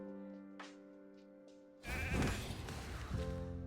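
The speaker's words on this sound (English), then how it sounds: "We are now a sheep as well." A sheep bleat sounds in the Raid mythical-unlocked game, a loud buzzy bleating burst arriving after a stretch of quiet tonal game music with soft blips, then fading back under the music.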